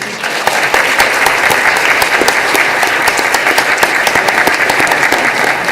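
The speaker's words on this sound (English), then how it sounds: "And you can clap for Aiden, too." A courtroom audience at an adoption day session claps for the newly adopted child, a steady, loud round of applause from a full room that holds evenly throughout.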